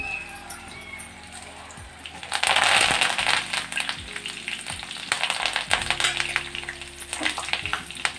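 Garlic and curry leaves drop into hot oil with dried red chillies and seeds, bursting into a loud, crackling sizzle partway through that keeps spitting and popping up close, with scattered stirring knocks.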